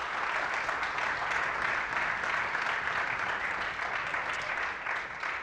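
Audience at a Glen Cove High School 11th and 12th grade Sinfonia concert claps, a steady wash of many hands heard from a distance at moderate volume, fading slightly near the end.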